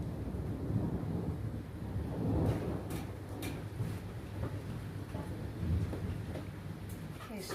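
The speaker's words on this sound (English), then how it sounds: "There's a storm coming up." Rumbling thunder rolls under steady rain on a stormy day, with low booming swells and wind gusts buffeting the microphone, while a voice is faintly present in the background.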